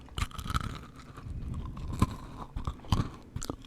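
Crunchy dark chocolate candy balls being chewed up close, with irregular crisp crunches and bites repeating over several seconds, no talking.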